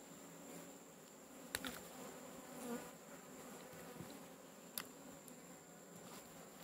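Steady buzzing of honeybees close by during hive removal, a continuous insect drone with a few brief clicks and bumps over it.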